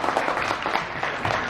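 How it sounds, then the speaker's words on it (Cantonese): Crowd applause for the finalists of an open solo cha-cha-cha dance competition, a dense steady patter of many hands with slight swells, moderately loud and with no talk over it. "掌聲俾我哋嘅決賽選手。"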